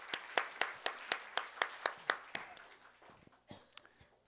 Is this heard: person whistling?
no